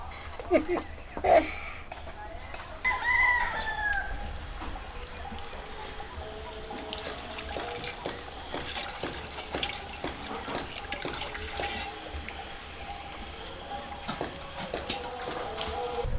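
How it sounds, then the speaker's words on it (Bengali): Tap water running while raw chicken meat is washed, a steady splashing flow into a sink with occasional clatters and bumps, a voice talking over it in places. "তো মাংসটা ভালো করে ধুয়ে নিয়েছি।"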